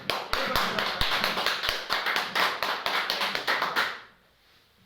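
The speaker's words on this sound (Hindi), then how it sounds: "जोरदार ताली से उनका स्वागत करेंगे।" An audience applauds to welcome someone at a business gathering: dense, energetic clapping close by for about four seconds, then it quickly dies away to near quiet.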